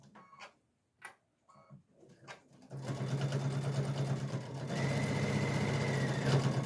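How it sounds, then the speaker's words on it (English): A Baby Lock Solaris sewing machine stitches a pillowcase seam in a steady, continuous hum with fast rhythmic ticking, close up, after a few quiet clicks and short handling sounds. "I am sewing on the Baby Lock Solaris today"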